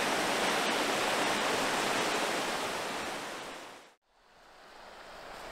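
Water rushing steadily at the water wheel of an old mill, a loud continuous broadband roar that cuts off abruptly near the end, then resumes.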